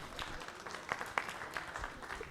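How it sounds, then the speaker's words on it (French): An audience applauds at a conference awards session, with fairly faint, scattered clapping and a few sharper claps standing out in the middle. "Sous vos applaudissements, Mathieu Mondolini, directeur de l'information du réseau ICI Radio France."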